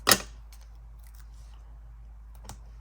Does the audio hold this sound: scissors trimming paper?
yes